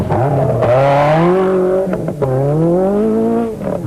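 A Mercedes prototype rally car at the 1992 Tunisia rally pulls away from a desert checkpoint, its engine roaring close and loud as it revs up through the gears, pitch climbing, dipping at a shift, then climbing again.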